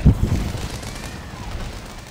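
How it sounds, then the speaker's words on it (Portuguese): A sharp, heavy explosion in the video game Monster Hunter on Xbox One opens, followed by a low rumbling decay fading away over the next two seconds. "Da explosão aqui."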